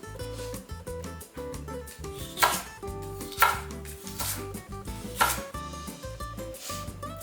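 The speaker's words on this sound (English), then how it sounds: "So if we're going to julienne the celery," A knife julienning celery on a cutting board produces quick, steady chopping taps in a close, even rhythm with a few louder strikes, heard alone without speech.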